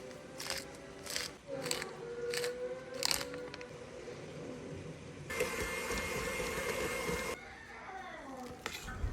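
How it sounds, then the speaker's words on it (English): Mashed potatoes are mixed with cream cheese by an electric mixer: after some clattering, the motor whirs loudly for about two seconds, then stops, leaving quieter kitchen handling noise. "I just get my mixer out and then I mix this all up"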